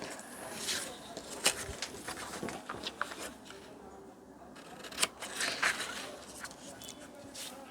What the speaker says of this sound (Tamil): கேன்வாஸ் வந்து இப்படி கட் பண்ணிக்கணும்